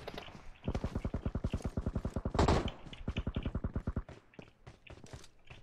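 Rapid automatic gunfire in PUBG Mobile rattles out in two long bursts of evenly spaced shots, fairly close and sharp, with a heavier blast in the middle and quieter stray shots trailing off at the end.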